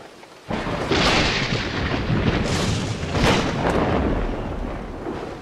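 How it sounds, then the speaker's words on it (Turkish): Deep rolling thunder from a lightning strike during a storm in the prehistoric survival game Dawn of Man, a loud sustained rumble that swells in waves with rain-like hiss and no talking. "Yıldırım çarpmasından öldü."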